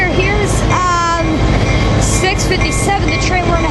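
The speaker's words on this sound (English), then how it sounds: "here comes the southbound coaster to San Diego." A southbound Coaster commuter train pulls into a downtown San Diego station on a sunny afternoon with a loud, steady rumble and bursts of high squealing brakes, close by.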